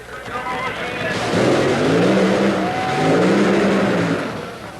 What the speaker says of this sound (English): The engines are running, we're ready to go with the first round of Top Fuel Eliminator.